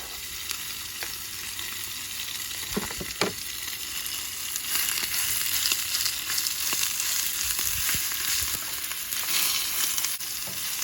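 Sesame oil fries in a pan at a winter camp in sub-freezing weather, a continuous hissing sizzle that swells louder midway, broken by a couple of brief knocks, close and steady throughout.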